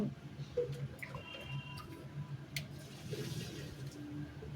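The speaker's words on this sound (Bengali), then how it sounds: "গাছগুলোতে কদিন জল দেওয়া হয় না, গাছে জল দেবো।" Water is poured a little at a time onto potted plants on a rooftop, giving a faint, uneven trickle and splash with a few soft drips and ticks against steady background noise.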